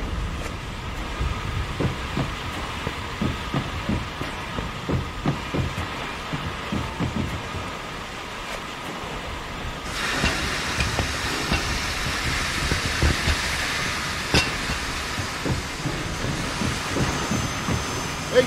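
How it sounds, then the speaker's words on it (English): In the video game Mafia II, a train starts up with a rhythmic clanking chug and hissing steam, the hiss brightening midway, steady and close without speech. "Okay, I'm gonna go start up the train."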